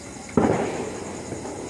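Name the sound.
firecrackers exploding during Diwali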